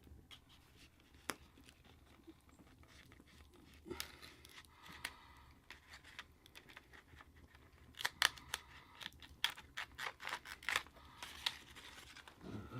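Birch bark is trimmed on a handmade flint dagger: quiet, scattered snips and scrapes that come as sparse clicks at first, then denser in irregular clusters near the end.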